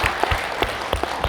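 Applause from a seated audience at a formal general meeting and board session of a Korean literary association, a short burst of many hands clapping with sharp individual claps standing out, steady and fairly close.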